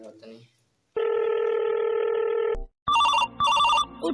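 Telephone call being placed, starting with a steady dial-style tone and then a loud repeating electronic ring in two bursts, heard close with a short voice at the start.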